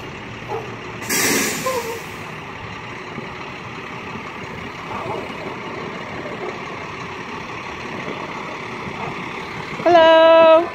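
A school bus idles close by, its air brakes giving a loud hiss near the start and a loud tonal beep or horn blast right at the end.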